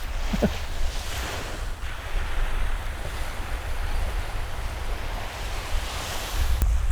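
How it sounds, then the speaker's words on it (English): Steady roar of strong wind buffeting the microphone over crashing surf, a continuous loud rush with no voices. "there was a really strong gust of wind that hit"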